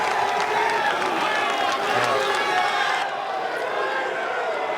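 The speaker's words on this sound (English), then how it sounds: "crowd is whipped up into a frenzy here" A golf tournament crowd around the 11th hole of a final round roars and cheers in a continuous dense wash, loud and sustained, with a commentator talking over it.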